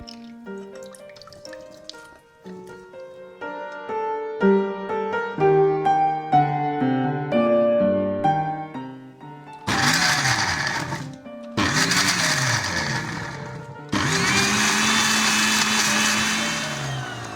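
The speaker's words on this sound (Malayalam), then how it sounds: "തണുത്ത് വന്ന ബീട്രൂട്ട് മിക്സി ജാറിലേക്ക് മാറ്റുകയാണ്. നല്ല ഫൈൻ പേസ്റ്റാക്കി അരച്ചെടുക്കണം." Mixer grinder whirring as it blends cooked beetroot into a fine paste, loud bursts of motor noise in three pulses after a stretch of background music.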